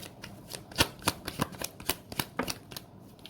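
Tarot cards snap and riffle in a quick, uneven series of crisp slaps and flicks, close and fairly loud, with no voice over them.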